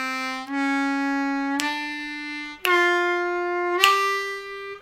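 Harmonica plays a blues-scale run from the 1 blow to the 2 draw as four sustained, bending notes that step upward, loud and close with no voice over them.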